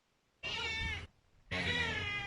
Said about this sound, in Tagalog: May narinig na pusa sa labas ng bahay.